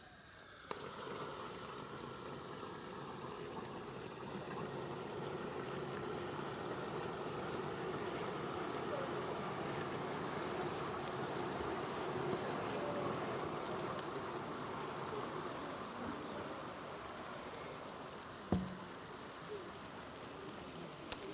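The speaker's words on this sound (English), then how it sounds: "I'll pour the cold liquid nitrogen into the hot water" Cold liquid nitrogen poured into hot water, giving a sustained broad hissing, bubbling roar that runs steadily for about twenty seconds at low level, with a couple of faint clicks near the end.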